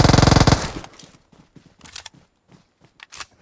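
Gunfire in a shooting video game, a rapid burst of automatic fire at the start, then scattered lighter shots and clicks with brief quiet gaps between them.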